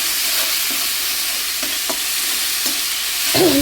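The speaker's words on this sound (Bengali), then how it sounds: "বন্ধুরা আলুর চপের মশলাটা এটা কষিয়ে নিয়েছি, রসুন আদা আর লঙ্কা বাটা।" Garlic, ginger and green chili paste sautéed in a wok for potato chop filling gives a continuous close sizzle, punctuated by several soft scraping stirs.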